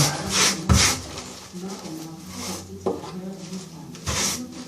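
Grout rubbed into tile joints with a float, producing close, rough scraping strokes in an uneven back-and-forth rhythm, with a few heavier swipes standing out.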